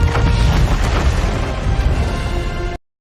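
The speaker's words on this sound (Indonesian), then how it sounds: "Sementara creeper di dalam tambang meledak dengan dahsyat." A creeper explodes in the Minecraft video game, a loud, sustained booming roar of blast noise lasting close to three seconds before cutting off abruptly into silence.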